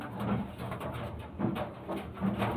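Pigeons in a loft, a male and a female kept as breeding birds, cooing low and soft in a few separate bursts spaced roughly a second apart over quiet rustling.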